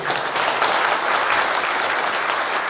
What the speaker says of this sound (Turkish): Hepsini alkışlıyorum.